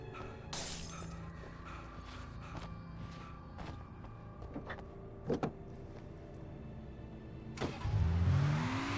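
A car engine starts and revs up in the video game Alan Wake Remastered. It is faint and scattered at first, then a louder surge of rumbling engine noise rises near the end.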